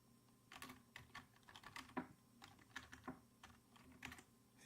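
A username and password are typed on a computer keyboard in quick, uneven bursts of light key clicks, close and quiet, with no talking.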